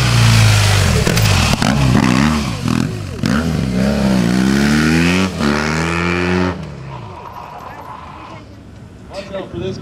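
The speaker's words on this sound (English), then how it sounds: "Making some smoke with the front tire there again." A stunt motorcycle at a stunt bike championship competition revs hard and repeatedly, its engine rising and falling in pitch while it spins the front tire, loud and close, then fades as people talk over it.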